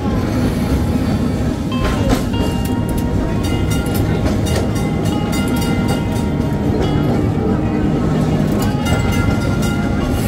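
Heritage tram rolling slowly through the crowded streets of old Kolkata along Nirmal Chandra Street, with a continuous loud rumble and rattle, metallic clicks and occasional wheel squeal, mixed with street noise and voices.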